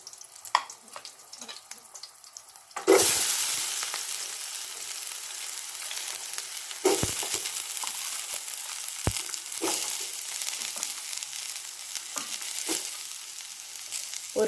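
Onions hit hot oil with a sudden loud sizzle, then fry steadily with crackling and a few stirring scrapes, close and continuous.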